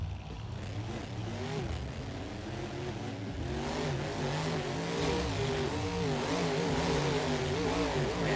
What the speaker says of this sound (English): We had to be quiet there just to feel those revs, those RPMs.